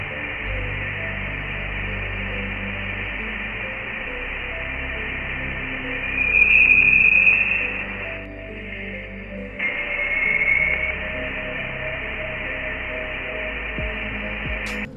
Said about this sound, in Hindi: लेकिन वॉयेजर 1 को अंतरिक्ष में कुछ ऐसा सुनाई देता है